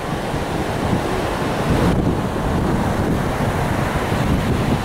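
Waves washing onto a beach, a loud continuous rushing surf mixed with heavy wind buffeting the microphone, steady throughout with no voices.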